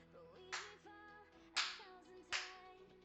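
Three single hand claps spaced about a second apart, sharp and close, over a faint background hum and tonal noise, no talking.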